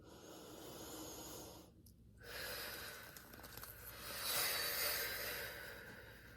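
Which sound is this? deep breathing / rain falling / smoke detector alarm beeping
deep breathing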